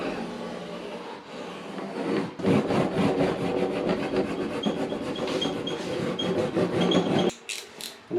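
A steady scraping, rubbing sound of a metal hammer pressed back and forth over a glued wooden door panel, continuous and fairly close, with a brief pause near the end.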